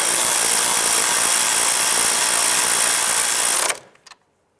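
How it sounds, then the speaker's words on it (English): A power tool whirs loud and steady while tightening the upper sway bar end link nut on a Ford Fiesta, then stops abruptly, followed by a couple of brief clicks. "Let's go ahead and tighten up our upper sway bar and link nut"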